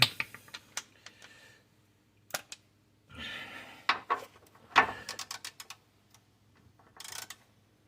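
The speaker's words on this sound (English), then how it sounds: "I go ahead and get my ratchet, a socket." Ratchet and socket turning the bolts on a BMW front lower control arm, heard as quick bursts of sharp metallic clicking with brief pauses between them, close and fairly quiet, with no talk.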